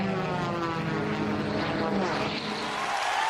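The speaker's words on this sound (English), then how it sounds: "He's got a fast plane." A fast propeller race plane at the 2008 Red Bull Air Race in San Diego roars past, its engine pitch sliding downward as it sweeps by, loud and continuous with no talk.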